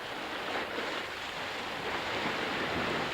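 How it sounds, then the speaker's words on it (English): Sea waves wash steadily onto a shore as a continuous broad roaring hiss with gentle swells in loudness, no distinct individual crashes and no voices. "The edges of the water curled over onto the land in white waves."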